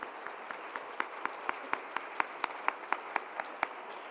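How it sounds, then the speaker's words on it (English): Audience applause at a university distinguished faculty event, honoring the organizers: steady, fairly faint clapping with sharp individual claps standing out in a regular rhythm, no talking. "we can give them a round of applause right now"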